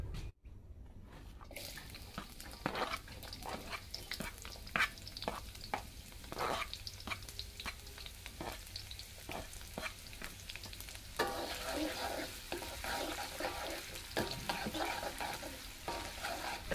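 Shallots, garlic and long beans are stir-fried in a pan, a steady oily sizzle with repeated scraping stirs and clacks of a utensil, growing louder and busier toward the end, close and without talk.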